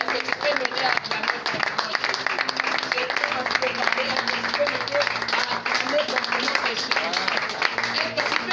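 A church congregation cheers and claps for Jesus at a worship service, a dense continuous wash of applause and shouting voices throughout, with music and singing underneath.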